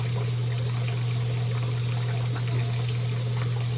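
Running water rinses soap out of hair, a steady close stream of pouring and splashing with a constant low hum beneath it and no speech.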